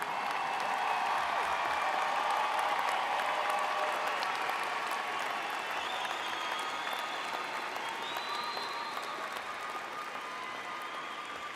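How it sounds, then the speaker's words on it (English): Commencement audience at Northwest Vista College's 2025 graduation applauding and cheering in a large hall, a dense, steady wash of clapping with cheers and whoops, loud and sustained throughout before easing slightly toward the end. "will you stand up and let us all cheer you on?"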